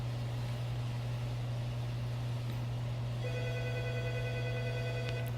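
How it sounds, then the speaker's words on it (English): An office telephone rings in repeated electronic trills over a steady low electrical hum, starting partway through and continuing to the end. "That's the work phone."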